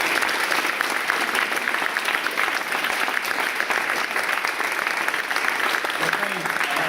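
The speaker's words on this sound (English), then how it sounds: "Let's give Niv a round of applause." Audience at a live conversation event gives sustained, dense applause for several seconds, loud and even throughout with no pause.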